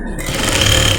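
A sewing machine stitches a shalwar pocket with a quick, steady whirring run, up close and continuous for a brief moment.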